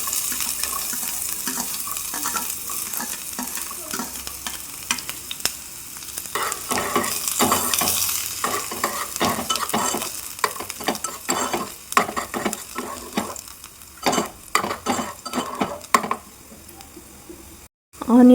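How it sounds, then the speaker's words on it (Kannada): Onions fry and are stirred in a pan, a continuous hiss cut by many quick scraping and clattering strokes, with running tap water nearby at points and a faint voice near the end. "ಆನಿಯನ್ನು ಕೂಡ ನೀಟಾಗಿ ಫ್ರೈ ಮಾಡ್ಕೊಳ್ಳಿ"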